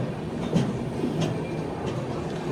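Howrah–Chennai train 12841 pulling slowly out of Rajahmundry, a steady low rumble of wheels and carriages with faint rhythmic clanks, heard from on board without talk.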